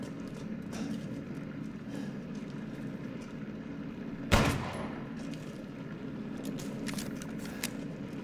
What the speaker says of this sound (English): Nine mm shots didn't work on this thing.